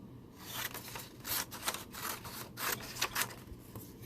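Trimming the edge of a sublimation mouse pad, a run of rough scraping and rubbing cuts at close range, uneven bursts repeating through the span with no talk.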